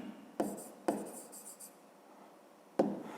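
Pen or pencil scratching on paper while a math solution is written down, with three brief sharp taps and short scribbling strokes between them, close and quiet with no talk.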